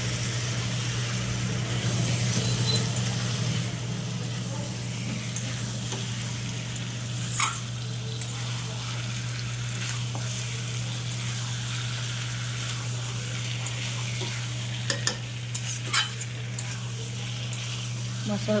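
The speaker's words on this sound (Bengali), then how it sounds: "মশলাগুলো নেড়ে চেড়ে ভালোভাবে মাখিয়ে নেওয়া হলো মাংসের মধ্যে।" Marinated meat and spices are stirred together in a pot for biryani, giving a steady sizzle with a few sharp scraping clicks over a constant low hum.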